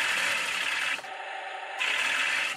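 The gearbox of a Heng Long Tiger I RC tank whirs steadily as it drives forward and then in reverse, with a dip and a change in the whine partway through, close and continuous.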